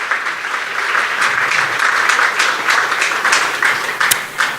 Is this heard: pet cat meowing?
no